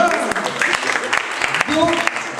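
A crowd at a slam poetry tournament applauds the cameraman, a steady wash of clapping with a voice speaking over it.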